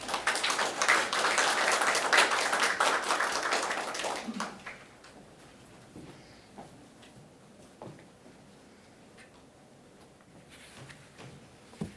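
Audience applause at an award ceremony, a dense burst of hand clapping from a crowd that fades out after about four seconds, leaving quiet room tone with scattered faint taps and movements.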